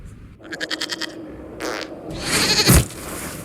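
A goat in the video game Dragon Age Inquisition bleats in a short series of quavering calls, followed by louder game noise and a burst of impact or scuffle sounds.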